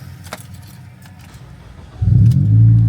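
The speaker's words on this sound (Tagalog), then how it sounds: "Wanna hear the cold start?" A Honda Civic FD with a modified exhaust cold-starts nearby: a brief crank follows a quiet stretch with faint jingles, then a loud, deep idle rumble that holds steady to the end.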